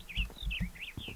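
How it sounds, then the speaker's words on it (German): Minecraft birds added by a mod chirp in short, bright, rising-and-falling calls, three clear phrases over about a second, set against a low soft rumble. "Oh, die Vögel."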